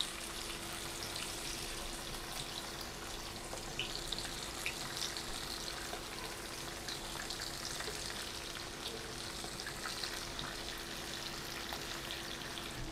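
Small taki fish coated in turmeric, chili and salt sizzle in hot oil, a steady close frying hiss with occasional pops throughout.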